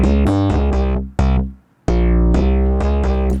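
Distorted synth bass built from a processed drum sample, playing loud punchy repeated notes with harmonic-rich grit and sharp decays, a short gap of near silence midway before the pattern resumes.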